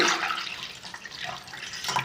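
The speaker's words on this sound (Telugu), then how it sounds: "ముందుగా గిన్నెలో వాటర్ పోసుకోవాలి" Water splashing into a bowl in a home kitchen while preparing stuffed brinjal fry, a steady close pour filling about two seconds with no talking.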